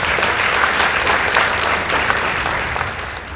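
Applause from the audience at a Kenyan school debate contest fills the room, thick and continuous, tapering slightly toward the end of its three seconds.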